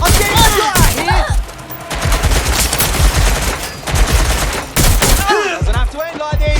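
Heavy automatic gunfire aimed at the player in Watch Dogs: Legion, loud sustained rattling volleys broken by brief pauses, close and intense with no talking over it.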